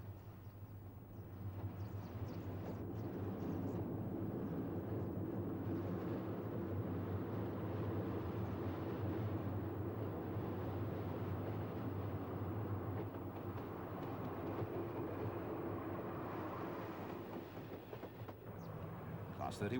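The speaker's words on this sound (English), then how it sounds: "A Class 45 on a train for Skegness crosses West Junction Box." A Class 45 diesel locomotive hauls a passenger train across a junction, a sustained deep rumble and drone that swells and holds for many seconds, then eases, with a voice talking over it.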